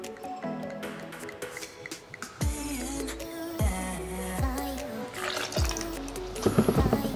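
El Peachy liqueur, a 75 ml measure, is poured into a cocktail shaker holding a little ice, making close, wet glugging and dripping sounds in several short pours.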